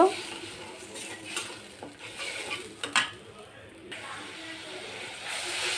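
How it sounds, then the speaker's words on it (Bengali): A mixed spice paste is stirred and fried in a pan, giving a soft, continuous sizzle broken by scraping and clattering of the spoon against the pan. A voice talks quietly nearby. "এখন এই মশলাটা দিয়ে দিব, গুলানো মশলা। একটু কষিয়ে নিব।"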